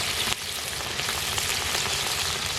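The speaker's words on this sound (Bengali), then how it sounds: "এবার সব মশলাগুলো ভালো করে কষিয়ে নেব।" Ginger paste, turmeric and chili powder frying in a pan with a little water for a masoor dal and egg dish, giving a steady dense sizzle close by without pause and no speech.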